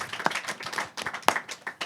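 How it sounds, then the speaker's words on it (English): A small group claps for elected teammates at a live show, a short burst of scattered, uneven hand claps close by with a couple of sharper strikes. "Big round of applause for your elected teammates."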